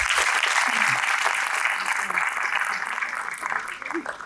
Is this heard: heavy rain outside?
no